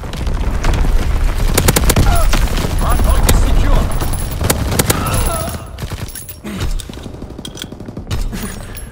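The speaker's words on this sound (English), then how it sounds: "Firing primary battery." Heavy gunfire from a ship's primary battery in a naval combat video game, rapid loud shots and booms stacked in a dense barrage, thinning toward the end.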